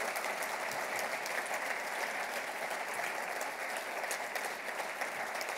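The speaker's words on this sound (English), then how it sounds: "Let's give them one more round of applause to thank them" Steady, sustained applause from an audience at a prize ceremony, a dense even wash of clapping from many hands that holds at one level throughout.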